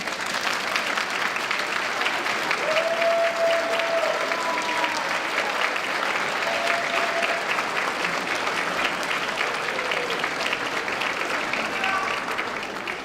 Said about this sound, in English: let's give them a round of applause for everything they did